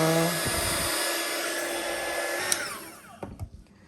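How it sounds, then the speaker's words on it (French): Heat gun blowing a steady broadband hiss across epoxy resin pigments for a bowl project, the airflow holding for about three seconds before cutting off into a few brief clicks and knocks. "Maintenant, je vais essayer le pistolet chauffant."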